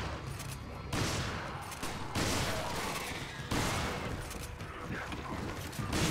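Bursts of gunfire in the video game Resident Evil 5, with loud, dense volleys of shots arriving in waves and mechanical clatter between them.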